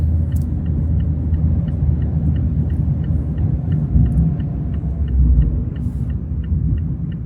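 A 2024 Mazda MX-5 Miata with a manual gearbox drives along a road, its engine giving a steady low rumbling drone with a faint regular ticking throughout, with no talk.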